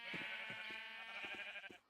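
Sheep in a video game bleat repeatedly in a steady, wavering chorus, several overlapping calls sounding fairly close with no talk over them.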